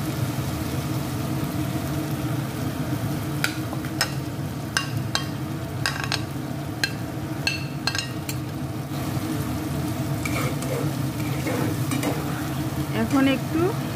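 Mushrooms fry in a pan with spice masala, steady sizzling throughout while a utensil stirs with scattered scraping clicks, close and alone.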